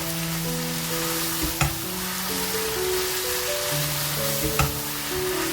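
Fenugreek frying with masala for beef karhai gives a steady, close sizzle with a hum in the background, broken twice by sharp stirring knocks from a spoon against the pan.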